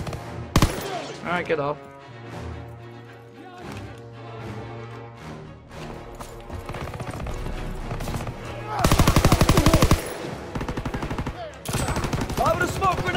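Gunfire in Call of Duty: WWII, the video game, with single shots and rapid automatic bursts cracking loudly, a long sustained volley near the end, a voice briefly speaking early on and game music running beneath.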